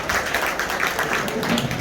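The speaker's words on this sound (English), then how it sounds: "A big round of applause to Jyotsna." An audience at a college National Science Day celebration claps for a student, a brief, steady wash of applause from a crowd in a hall.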